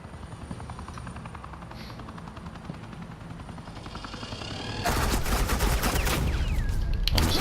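Gunfire in the Batman: The Telltale Series video game, suppressing fire from Agent Quinn: a steady droning background gives way to a sudden loud burst of rapid automatic shots that continues to the end.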